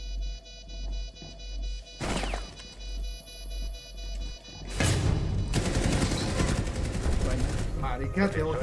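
Bursts of rapid gunfire in a ranked Rainbow Six Siege match, with sharp shots and crashes becoming dense and continuous in the second half over a low rhythmic hum.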